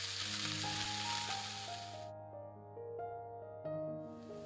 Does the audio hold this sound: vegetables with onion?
yes